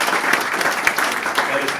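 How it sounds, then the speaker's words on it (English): Audience applause at a Maine Heritage Policy Center event: steady, dense clapping from a room of people, even and continuous across the whole moment with a few sharper claps standing out. "that is definitely worthy of applause"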